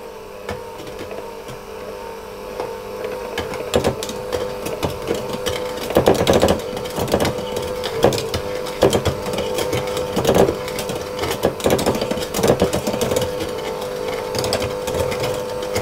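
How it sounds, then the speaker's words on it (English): Hand mixer on slow beating butter into cookie dough, a steady whirring motor with irregular clacking and thumping of beaters against the bowl, close and continuous without speech. "I'm going to add them in one at a time and mix them together on slow with my hand mixer"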